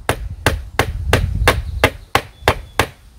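A rock strikes a pin on a homemade wooden pin loom, nine sharp, evenly spaced knocks ringing out close and loud with no talking.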